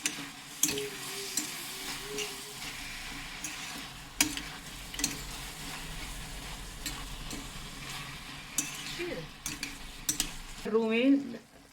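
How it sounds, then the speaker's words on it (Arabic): Chicken pieces for tacos sizzle in a hot pan while a utensil stirs them, giving a low continuous frying hiss punctuated by occasional scraping knocks against the pan, ending in a louder rattle. "راح نحركه، راح نضلنا نحرك فيه لغاية ما يتغير لونه"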